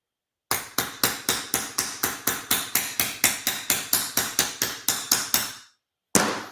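Rapid, steady hammer blows on a metal tank, about twenty sharp ringing strikes in an even rhythm, loud and close, then a pause and one more hit.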